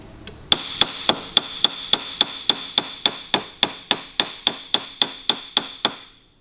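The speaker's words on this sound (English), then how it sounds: "So do it with a screwdriver underneath and you can just bash that back again." Hammer blows straighten a bent steel sheet-metal panel on a 1942 Cadillac Fleetwood, with a screwdriver held underneath as a backing: about twenty sharp, ringing metallic strikes land in a steady, evenly spaced rhythm, close and loud, with no talk.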